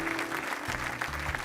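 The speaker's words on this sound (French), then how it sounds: "Le public applaudit, crépite" Studio audience applauding on a French TV game show, a brief, dense crackle of clapping with background tones beneath.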